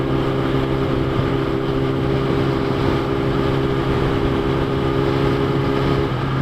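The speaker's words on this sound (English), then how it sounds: "Look at its engine braking." A 2012 Kawasaki Ninja ZX10R with 57,000 km on it, engine braking on the road from around 80 km/h, giving a continuous, droning engine note under steady wind noise.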